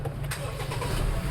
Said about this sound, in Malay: So sekarang jom kita start kereta.